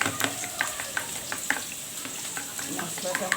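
Potato pieces frying with turmeric in mustard oil for aloo dum, a close steady sizzle broken by repeated spoon stirs and light scrapes against the pan.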